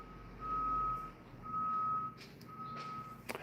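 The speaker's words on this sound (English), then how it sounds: "It's a garbage truck, Lane." A garbage truck's reversing alarm sounds three steady, evenly spaced beeps, moderately distant, over low outdoor rumble, with a few faint clicks near the end.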